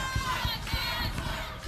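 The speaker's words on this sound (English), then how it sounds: "Looks like this crowd here is strongly behind Dean Jablonski and Shark Boy" A wrestling crowd shouts and cheers at a match, a loud sustained roar of voices with a few sharp bursts and thumps near the start.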